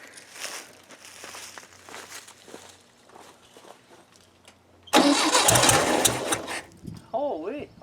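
A buggy engine that has been fed gas through its carburetor cranks, then sputters and catches halfway through, roaring loudly up close with a voice reacting over the running motor.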